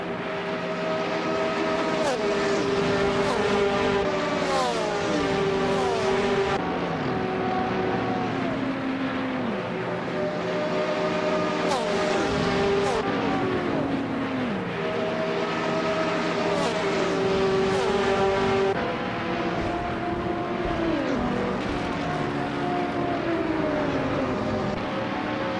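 A Lamborghini Gallardo GT race car engine in a racing video game, a loud sustained whine rising through the gears with repeated pitch drops at each shift, steady and close with no talking.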